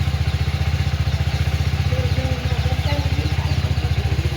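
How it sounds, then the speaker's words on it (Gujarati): A motorcycle engine idles after warming up, close and loud, with an even rapid thumping beat that stays steady throughout. "મેં બાઇક લઈ નાખી, જુઓ. અને બાઇકે ગરમ થઈ ગઈ."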